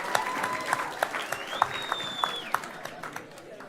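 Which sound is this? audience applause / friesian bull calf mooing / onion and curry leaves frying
audience applause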